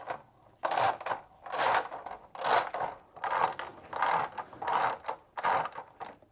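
A ratchet wrench works a horn bolt on a Triumph Tiger 900 motorcycle, its loud, close clicking coming in about eight even bursts separated by short pauses, with no talking.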